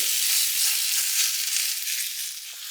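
Vegan batter spread thin in a hot pan sizzles and fries steadily, a loud, close hiss that holds throughout and eases slightly toward the end.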